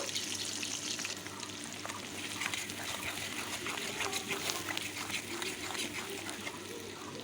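Dried chillies, cardamom, cinnamon and whole sliced onions stirred in a hot frying pan for a village-style mutton curry, giving a steady close sizzle with faint scraping throughout.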